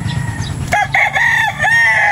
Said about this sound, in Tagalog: May manok po dito.